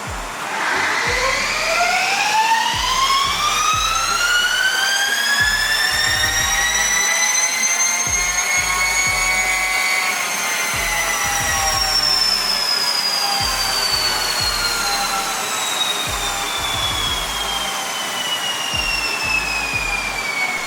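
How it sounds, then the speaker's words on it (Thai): A Triumph TE-1 prototype electric motorcycle's drivetrain gives a steady high-pitched electric whine that rises and falls in pitch over a constant mechanical hum, continuous and fairly loud throughout. "ไม่ใช่เสียงของเครื่องยนต์โดยตรงนะครับ แต่ว่าเป็นเสียงของการทำงานของ ระบบส่งกำลังครับ"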